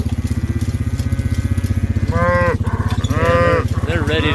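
Several cows in a pasture herd moo in loud, drawn-out calls over a steady, rumbling engine drone, likely a farm vehicle driving slowly through the livestock.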